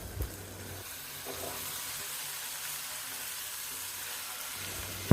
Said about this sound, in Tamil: பைனாப்பிள் சேர்த்ததுக்கப்புறம் 1 நிமிஷம் வரைக்கும் வதக்குனா போதும்.